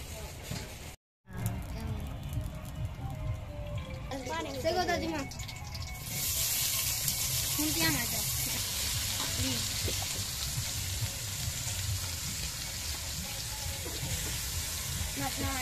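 Noodles simmer in a pan with lemon leaves and other leaves, a steady bubbling sizzle with occasional stirring scrapes that grows louder and fuller after a brief cut, while someone talks over it.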